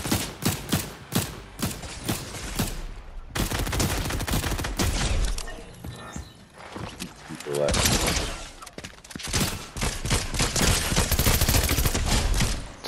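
Close-range gunfire in Fortnite, dense rapid bursts of shots cracking loudly and near, broken by a short lull and then resuming in quick volleys, with a voice talking over parts of it.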